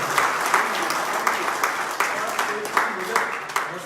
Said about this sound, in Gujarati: તાળીઓનો ગડગડાટ થાય